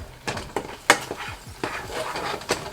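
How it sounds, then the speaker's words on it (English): Spoon stirring sweetener into food in a pot at home, a few distinct scraping and clinking strokes at an irregular pace, close and fairly quiet. "Then you're just gonna mix it all up."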